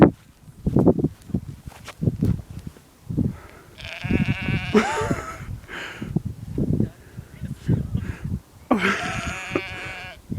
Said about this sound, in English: Have to get away from the sheep.